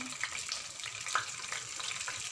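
Dried chilies, cumin and mustard seeds fry in hot oil in a pan, giving a steady, close sizzling hiss with a few brief pops and crackles and no talking.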